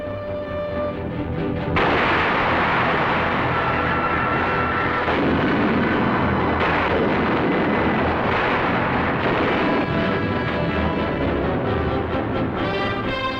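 Loud, sustained rumbling barrage of heavy booms from battlefield artillery in 1952, dense and continuous with little pause, like big guns firing close by.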